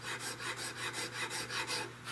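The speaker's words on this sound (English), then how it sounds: "When I hit just a few thousandths from that metal, I'll stop filing and start sanding." Hand file rasping on the wooden stock of a 16-gauge European shotgun, close rhythmic strokes about three per second, steady and alone.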